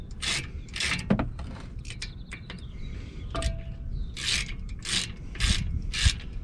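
Ratchet tightening a 13 mm bolt on a brake caliper during a swap from Brembo to Power Stop brake pads, giving repeated close clicking strokes in short bursts with scraping metal handling between them.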